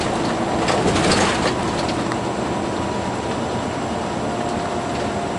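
A freight train rolls past in Indiana, giving a steady, close, broadband rumble and rattle of railcars that keeps going without a break, with no voices.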